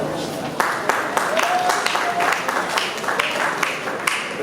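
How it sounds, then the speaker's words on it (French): Audience applause at a wedding ceremony, a dense steady wash of clapping from a crowd lasting a few seconds, with some voices mixed underneath. "sous vos applaudissements s'il vous plaît"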